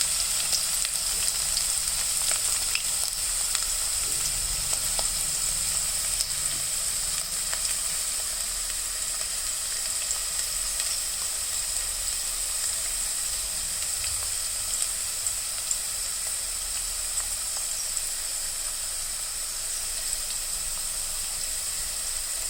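Cashews, coriander and curry leaves fry in hot oil for wheat rava upma, giving a continuous close sizzle and hiss that holds steady throughout with no talking.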